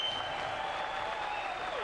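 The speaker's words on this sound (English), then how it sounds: "Give them a round of applause." An audience at a ladies' night event gives a soft, continuous round of applause, steady and fairly distant for just under two seconds.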